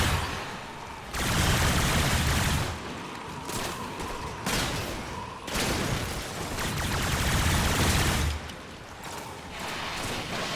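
Shotgun blasts ring out in Warframe, loud booming volleys that come in sustained stretches separated by short lulls, each stretch dense with repeated heavy shots.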